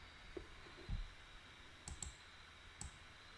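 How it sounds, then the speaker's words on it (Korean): A few crisp computer mouse clicks, two close together and then one more a moment later, sharp and quiet against a faint hum in an otherwise still room. "이걸 좀 앞으로 하고 클릭 눌렀습니다"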